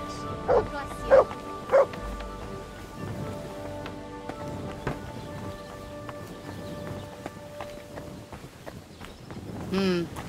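A dog barks in the medieval video game Kingdom Come Deliverance II, with three quick barks near the start and another at the end, over soft rain and clopping hooves.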